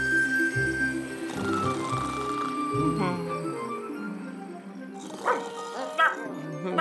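A cartoon dog in a Garfield episode lets out a few short barks and yips near the end, after a stretch of background cartoon music.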